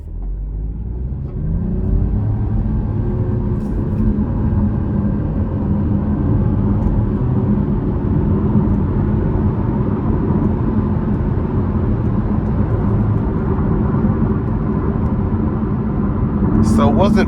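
A 2025 Chevrolet Trailblazer LT with the 1.2-litre turbo engine pulls away under moderate throttle, its steady interior engine drone and road rumble building and holding loud for the whole stretch, heard from inside the cabin.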